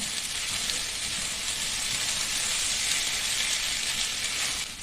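Potatoes are tossed and mixed in a hot pan for sabudana khichdi, giving a loud, even hiss of sizzling oil that holds steady the whole time without voices.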